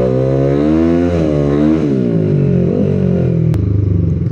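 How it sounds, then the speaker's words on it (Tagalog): Loud modified motorcycle engine revving close by, a rough, throbbing exhaust note rising and falling through several throttle blips with a clattering, uneven idle between them, heard alone with no talk. "Napakabulabog ng motor na to, no?"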